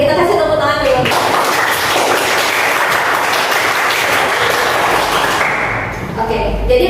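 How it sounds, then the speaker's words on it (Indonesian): A classroom of students claps together, a dense burst of applause lasting several seconds in a room, with a voice heard briefly at the start and end. "kita kasih tepuk tangan dulu"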